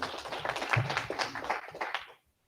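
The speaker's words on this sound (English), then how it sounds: "that's a round of applause for all of us" A school audience at a board work session breaks into a round of applause, a dense burst of many hands clapping for about two seconds before stopping abruptly.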